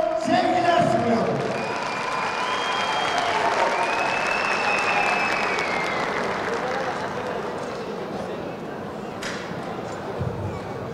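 A hall audience applauds steadily at an award ceremony, dense clapping filling the space, loud at first and slowly easing, with a voice briefly heard near the start.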